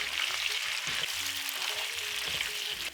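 Onions sizzle and fry in a hot pan for a goat dry fry dish, a steady close crackling hiss with a few faint stirring knocks underneath.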